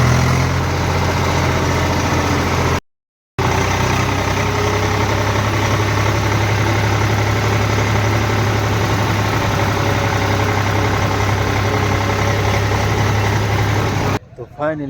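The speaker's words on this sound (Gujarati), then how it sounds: "ચાલો આપણે ફટોફટ પાર્કિંગ કરી દઈએ ટ્રેક્ટરને" A tractor engine runs steadily while being parked in a busy lot, a loud continuous low droning hum, briefly cut out near the start and ending with a short rattling burst.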